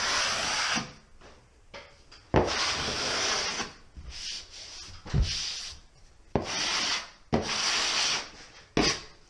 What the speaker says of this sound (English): It's super stiff, so it's great for first coating and scraping.